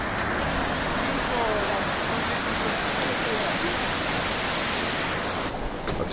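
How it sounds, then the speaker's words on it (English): Steady outdoor water rushing, like a stream or waterfall in the Italian Alps during a skiing holiday, a dense constant wash that fills the whole stretch without a break. "You can hear some water."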